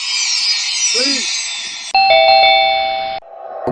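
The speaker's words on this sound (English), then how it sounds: "He then knocks and rings the doorbell" Ring doorbell chiming at a home entrance, a loud electronic two-tone ding-dong followed by a second ringing tone, close and clear with a brief voice-like sound early on.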